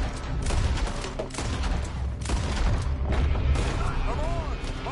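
Gunfire in a Red Dead Redemption 2 shootout, with dense, continuous volleys of shots and booming reports, loud and close. The firing stays constant without pause, with a thin background tone running underneath.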